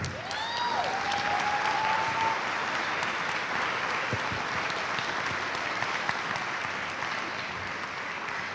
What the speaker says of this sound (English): we'll encourage them with a round of applause